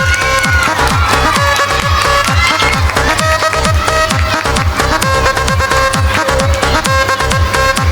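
A crowd at a primary school annual day event keeps up loud, steady, dense applause for students, sustained and unbroken throughout, with some cheering mixed in.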